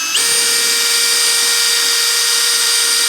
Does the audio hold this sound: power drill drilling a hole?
yes